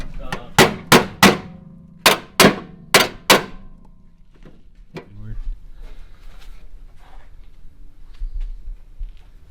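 Seven or eight sharp metallic hammer strikes ring out in quick bursts, loud and close, on a 1981 Honda Civic during an engine swap, followed by quieter clatter and low rumbling.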